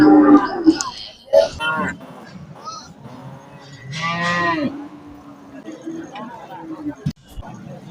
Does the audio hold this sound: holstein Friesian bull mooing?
yes